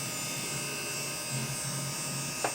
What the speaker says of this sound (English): The fins are spinning. Also the hard drives are spinning.